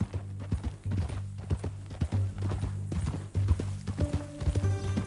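Horse hooves clip-clop in steady rhythm in Red Dead Redemption 2, close and fairly loud, with a horse snorting or whinnying briefly near the end over a low game ambience.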